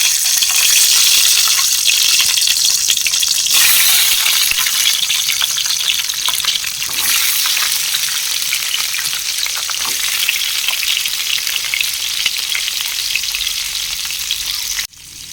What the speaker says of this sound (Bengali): এবার আমি একটা একটা ডিমগুলো দিয়ে ভেজে নেব।